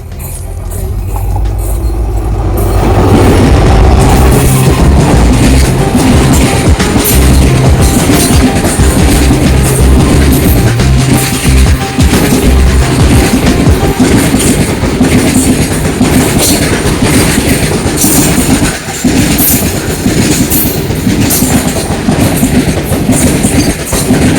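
A train roars by close and loud, with rhythmic clickety-clack of wheels on the rails continuing for the whole stretch.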